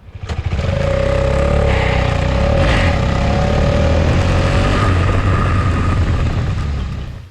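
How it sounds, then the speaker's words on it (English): A KTM 250 Adventure motorcycle engine runs steadily close by, its loud, buzzy exhaust note holding a constant drone for several seconds before dropping away at the end. "The exhaust note of this motorcycle is just like any other KTM."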